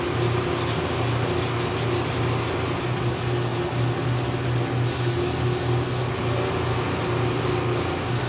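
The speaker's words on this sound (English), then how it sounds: "And I'll sand this other part down and show you exactly how you don't want it to look." Primer on a car panel is sanded by hand in a steady, continuous scratchy rub, close and even in loudness, with a faint background hum and no talking.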